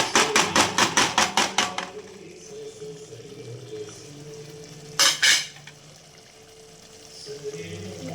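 Cashew and mushroom curry stirred in a pan, a quick run of rhythmic scraping clinks at the start, then a quieter simmer and a second short burst of scraping midway.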